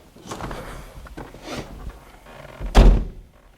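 A Wheego electric car door being handled: soft mechanical clunks and shuffles followed by a firm, close thunk of the door latch, with no talking.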